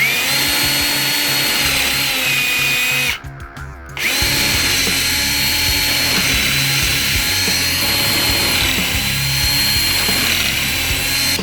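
A power drill countersinks screws into a wooden door, whining loudly and steadily near the mic. A brief pause breaks the run before it carries on.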